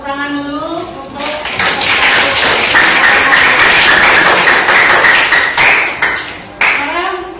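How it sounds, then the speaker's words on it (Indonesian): Students in a classroom break into steady rhythmic hand clapping, close and fairly loud, with a teacher's voice talking over the start and end of the applause. "Tepuk tangan dulu untuk"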